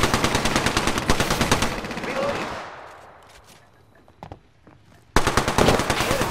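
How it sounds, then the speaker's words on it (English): Enemy automatic gunfire in the Xbox One game Apex Legends, loud rapid bursts of shots that fade into quieter scattered pops before another close, intense burst, with brief talk. "The enemies are shooting at me."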